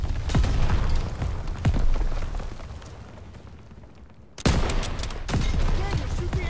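Gunfire in a Call of Duty video game as ammo caches are shot, rapid repeated shots and loud impacts over a rumbling battlefield, with a brief lull before another heavy blast and more shooting.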